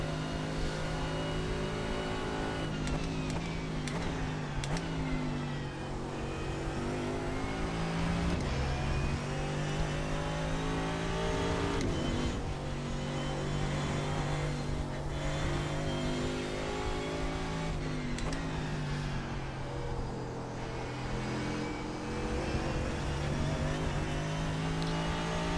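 Mercedes AMG GT3 race car in iRacing's IMSA race at Road America, its engine roaring loud and close, repeatedly climbing through gears then dropping under braking in long continuous sweeps, with no talking.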